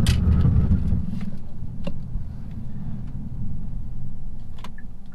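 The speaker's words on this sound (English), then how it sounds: "And it's time for a hard brake." A 2014 Hyundai Santa Fe Sport FWD braking hard with ABS engaged: a steady low road and tire rumble with wind noise inside the cabin, a few brief knocks and clicks as the car slows, no voices.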